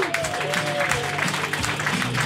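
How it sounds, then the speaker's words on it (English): A crowd applauds a comedian being introduced at a comedy night at the Portland Arms pub, a short burst of steady clapping with a whistle cutting through and voices underneath. "Everybody, round of applause to that"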